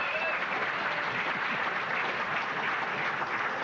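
An audience applauds at the 12th Annual Enfield Athletic Hall of Fame ceremony, a dense, even wash of clapping from a large crowd in a hall that holds steady and loud throughout.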